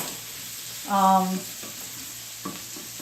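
Cut red and yellow peppers dropped into a hot pan, a brief sizzling burst that fades into a quieter frying hiss, with faint clatter afterward.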